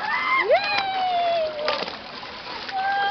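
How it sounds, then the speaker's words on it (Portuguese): A child dives and splashes in a swimming pool, a brief splash followed by light water movement, with bird-like whistles and a voice nearby. "Olha lá, Josi, ela mergulhando, Josi, ó."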